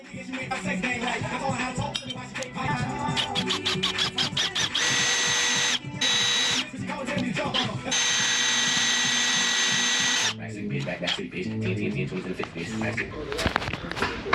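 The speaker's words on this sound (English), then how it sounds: "We did go ahead and already drill the hole." Power drill boring a hole in a Polaris RZR off-road vehicle part, a loud steady whir in several long bursts separated by short pauses and ratcheting, with someone talking nearby.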